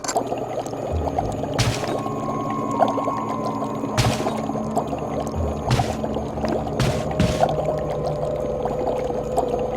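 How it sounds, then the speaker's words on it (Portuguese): Water bubbling in an aquarium inside the mansion of the Resident Evil 1 video game: a steady bubbling wash over a low hum, broken by a few sharper bursts. "O som das bolhas de água no aquário"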